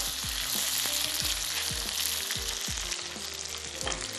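Tom yum soup with prawns and mushrooms being stirred as it heats in a pot, a dense constant hiss of bubbling under repeated regular scraping strokes of a spoon, close and loud, with no talking.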